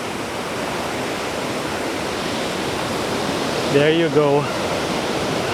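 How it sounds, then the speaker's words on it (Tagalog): Tukuran Falls in Oriental Mindoro roars as a loud, constant rush of falling water filling the whole scene, and a voice speaks briefly near the end over the steady noise. "Pero ito yung mismong Tukuran Falls."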